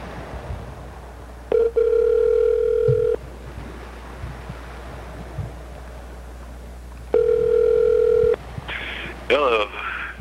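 Two long, steady phone tones ring out as a call is placed, each lasting about a second and a half with a quiet gap between them, over a constant windy hiss, with a brief chirpy voice near the end.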